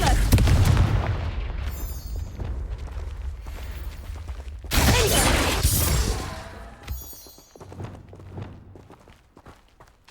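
A Confringo fire spell in the Hogwarts Legacy video game bursts with a heavy blast, followed by a second roaring explosion midway, then crackling debris and rumble fading out.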